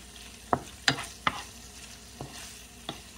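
Shrimp sauté in a hot pan under a constant soft sizzle, broken by about five sharp scraping strokes of a utensil stirring them, close up and without talk.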